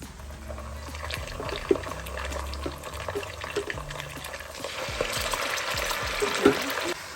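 Ginger garlic paste hitting a pan of well-browned onions, frying with a steady sizzle and bursts of stirring and scraping, close and continuous with a brief louder clatter near the middle.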